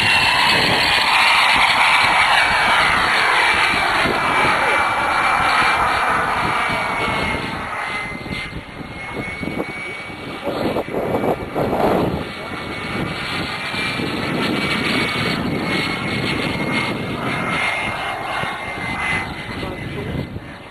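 A10x turbine-powered RC jet flying overhead at an airfield, its loud, high turbine whine sweeping in, peaking and fading away over about twenty seconds, with voices talking underneath.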